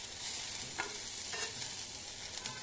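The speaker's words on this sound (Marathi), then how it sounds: "आणि बदाम आणि काजू आहेत, तेही आपल्याला चांगले परतून घ्यायचे आहेत।" Raisins, almonds and cashews are sautéed in a pan for jaggery lapshi, giving a steady close sizzle with a few light stirring scrapes and no voices.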